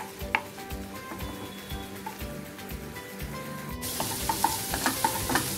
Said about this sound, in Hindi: ये जो है हमारा जिंजर और गार्लिक जो है ये सॉटे हो गए हैं